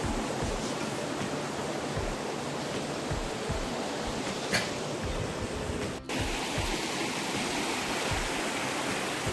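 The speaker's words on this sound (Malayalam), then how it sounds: "അപ്പോൾ ഇവിടെ ഈ ഒരു വെള്ളം ഒഴുകി വരുന്ന ആ ഒരു സൗണ്ട് തന്നെ നിങ്ങൾക്ക് കേട്ടാൽ അടിപൊളിയാണ്." Water rushing steadily at Meenmutti Waterfalls, a dense, constant roar that fills the scene with no voices.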